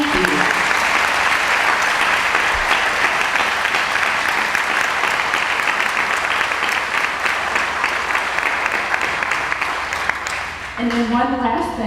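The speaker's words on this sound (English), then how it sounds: "let's just give him another round of applause." A crowd at a community center ribbon cutting in Tulsa, Oklahoma applauds steadily for about eleven seconds, a thick sustained clapping that fades near the end as a voice begins speaking.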